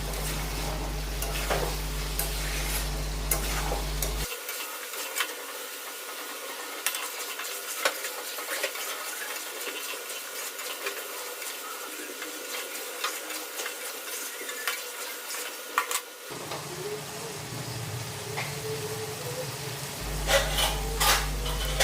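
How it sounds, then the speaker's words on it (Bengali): Chicken being sautéed and stirred in oil for kosha, a continuous hissing sizzle with frequent ladle scrapes and light clinks against the pot, close and steady throughout, without speech. "আমাদের চিকেনের কষানো প্রায় প্রসেস শেষ"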